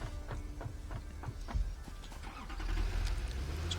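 In the game Satisfactory, a tractor's engine drones steadily as it drives, with a low rumble that swells louder toward the end over faint clanking.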